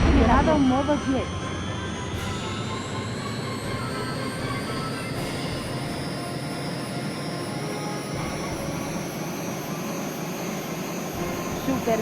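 A Harrier jet's engine roars in jet mode in the Eagle One: Harrier Attack PlayStation game, a loud, continuous rushing whine with a slowly rising tone.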